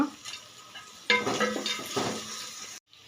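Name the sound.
frying onions and dried chillies in pan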